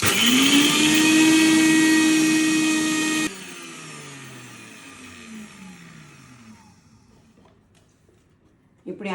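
A mixie grinder jar whirs loudly as it grinds rock salt, a steady high motor whine that cuts off partway, then winds down into fading hum, with a short clatter at the end.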